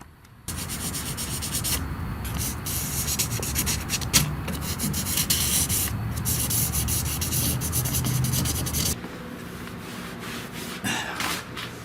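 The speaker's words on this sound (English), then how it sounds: "Very carefully sanding with this 2000 grit just to blend in that line and make it disappear." Steady close hand sanding of single-stage paint on a VW Bus with 2000 grit sandpaper, a continuous soft rasping rub that runs for about nine seconds before stopping, with no voice.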